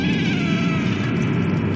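A cat in the video game Stray gives a drawn-out, wavering meow, loud and close, over a low steady background tone.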